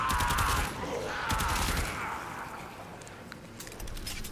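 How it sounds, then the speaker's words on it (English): Zenith assault rifle fire in the Warframe video game, a dense burst of rapid shots loud at the start and again near two seconds, tapering into quieter scattered shots with lighter bursts toward the end. "Good old regular assault rifle"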